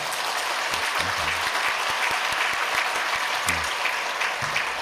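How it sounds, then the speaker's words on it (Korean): A church congregation applauds to welcome a new minister during a Sunday worship service, sustained, fairly close clapping from many hands with a few brief voices breaking through. "인사할 때 박수로 환영하겠습니다."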